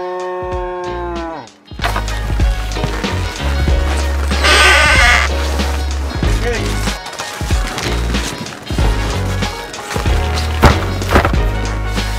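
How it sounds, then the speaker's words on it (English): Cattle in a village in Yakutia, the coldest village on Earth, low moos and bleating calls repeating loudly and close by in a steady series over farmyard background noise, with no speech. "Vasily forgets some of his cows"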